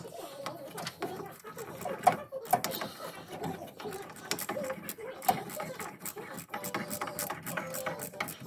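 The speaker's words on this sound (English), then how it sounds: "Now tighten down the bolts." Ratchet clicking in short bursts while the master cylinder bolts on a 1967 Chevy van are tightened, close up, with a few louder clanks of tools and no talking.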